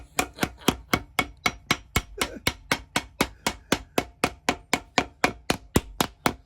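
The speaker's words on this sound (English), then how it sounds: "Hammer time." Steady, rapid hammer blows on a Tom Ford alligator loafer under repair, about three per second, sharp and close, continuing evenly throughout with no voices.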